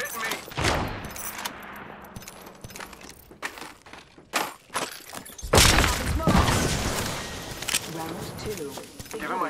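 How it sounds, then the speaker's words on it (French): Rapid gunfire and impacts crackle through an Apex Legends firefight, dense bursts mixed with thuds and game voice lines, with a person talking over the action. "shots fired and they're hitting me"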